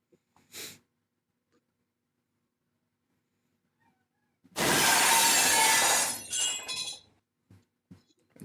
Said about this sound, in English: Every time you guys break the glass floor, I'm using that sound effect